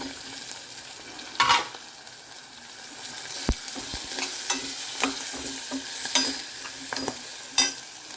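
Moringa drumstick pieces, stripped of their fibres, go into a hot pan for a tomato and fenugreek curry, giving a close, continuous sizzle with scattered clinks and knocks of a utensil and a few louder scrapes, no talking.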